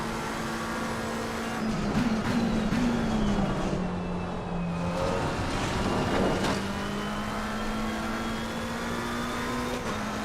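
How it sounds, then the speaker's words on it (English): Race car in Assetto Corsa Competizione accelerating across grass, a loud steady engine drone with rising and falling pitch as it revs, continuous and close throughout. "Car didn't seem to mind accelerating on the grass there."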